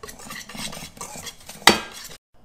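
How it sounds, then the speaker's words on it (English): A whisk clinks and scrapes around a bowl of dry batter mix with salt and pepper, quick rattling strokes ending in one sharp metallic knock, then silence. "Get a little whisk around while it's dry."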